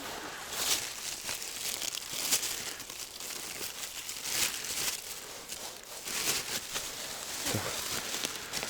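Plastic bag rustling and crinkling close to the microphone at a riverside fishing spot, a steady run of crisp, papery crackles with several louder bursts over about nine seconds.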